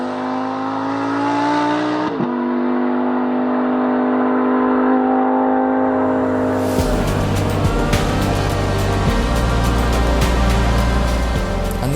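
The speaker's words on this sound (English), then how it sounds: "it's hard to compete with a loud and proud atmospheric V10" Naturally aspirated V10 of a Lamborghini Huracan EVO RWD howls at high revs, climbing through a gear, dipping on a shift, then surging again with harsh, raspy acceleration, loud and close.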